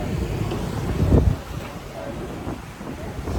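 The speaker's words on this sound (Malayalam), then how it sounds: "ഈ കാറ്റ് വീശുമ്പോൾ നല്ലൊരു തണുപ്പ് കിട്ടുന്നുണ്ട്" Wind gusting across a small boat on open water in Germany, a steady broad rushing roar buffeting the microphone, swelling to a stronger gust briefly before easing, with a voice talking over it.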